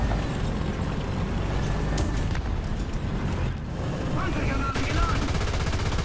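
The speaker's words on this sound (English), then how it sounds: "gunner! Machine gun!" Tank machine gun fire in War Thunder from a Hetzer, a dense rattling burst of gunfire loud and sustained through the whole stretch amid heavy battle rumble, with a voice talking over it.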